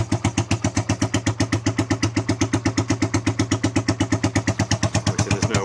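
Suzuki EN125 single-cylinder motorcycle engine running with no exhaust fitted, a loud rapid regular chuffing pulse, close and alone.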